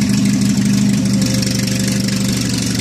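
A mid-1980s Cub Cadet 582 Special garden tractor engine idles close by, a steady, even low rumble that holds throughout with no talking.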